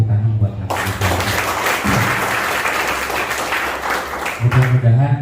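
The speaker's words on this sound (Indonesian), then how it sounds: "Tepuk tangan buat Edi Suwardi" A seminar audience bursts into loud applause, dense clapping that carries for several seconds between bits of a voice at the start and end.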